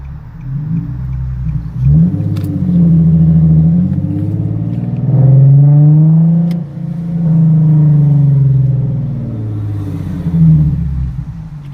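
A Nissan 370Z engine hums steadily from inside the cabin, rising and falling in pitch as it accelerates and shifts, with a low rumble throughout.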